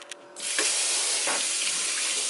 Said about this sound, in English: Okay, you want to wash your hands here?